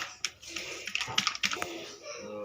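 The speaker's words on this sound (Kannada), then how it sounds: "ಕೈಯಲ್ಲೇ ತಟ್ಟೋದು. ನಿಮಗೆ ಬೇಕಾದರೆ ಮೇಲೆ ಇನ್ನೊಂದು ಪೇಪರ್ ಹಾಕಿ ತಟ್ಬೋದು." Hands pat sweet toor dal obbattu dough flat on paper, making a quick run of soft, close, irregular slaps and taps in a quiet kitchen.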